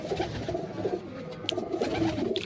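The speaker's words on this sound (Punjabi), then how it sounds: "ਇੱਧਰ ਵੀ ਪੂਰੇ ਤੰਦਰੁਸਤ ਬੈਠੇ ਆ ਕਬੂਤਰ" Pigeons coo softly and repeatedly nearby, a low throaty murmur with faint rustling and other birds in the background.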